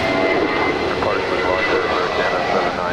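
Air Canada 790 Heavy, a jet airliner, takes off from runway 25 right at LAX with a loud, continuous engine roar close by, while radio voices talk over it.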